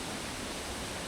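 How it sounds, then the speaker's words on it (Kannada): Hottehalla waterfall on the Aghanashini river in Uttara Kannada pours as a dense, steady rushing hiss, loud and unbroken for about a second, with no voices. "ನೀರಿನ ಶಬ್ದ ಒಂಥರ ಮಾಯಾಲೋಕನೇ ಸೃಷ್ಟಿ ಮಾಡ್ತು."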